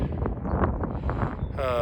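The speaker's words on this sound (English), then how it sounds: "It's a little windy today" Steady wind rumbles and buffets against the microphone outdoors at a park beside a gazebo, a dense low roar lasting throughout, with a voice faintly audible near the end.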